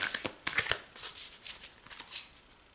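A deck of cards is shuffled in quick riffling bursts, crisp rapid flutters that come several times in a row and grow slightly softer, close and alone without speech.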